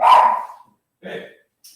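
A dog at the door gives a loud bark, then a second shorter bark about a second later, close and sharp, with a faint yip at the end.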